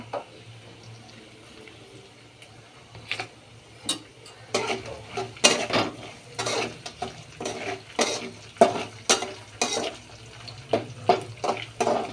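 Curry leaves hit hot oil for a green chilli puffed rice tempering, setting off a run of sharp crackling bursts that grow denser and louder, with quieter gaps between pops.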